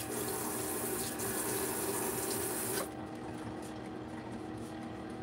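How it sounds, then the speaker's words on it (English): Hands being washed under running water from a tap at a campsite, a steady hiss and splash that drops to a quieter, duller trickle partway through, with no talking. "Let me get my hands washed again."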